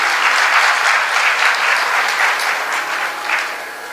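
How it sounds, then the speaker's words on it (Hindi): An audience claps loudly and continuously during a Hindi spiritual discourse, a dense sustained round of applause that fades slightly toward the end. "ये ताली बजाने की बात नहीं है"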